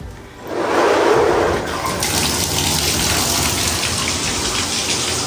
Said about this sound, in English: You want me to turn the water on?